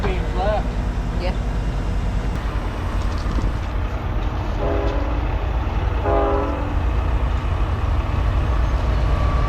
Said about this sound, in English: Well, if it isn't another train.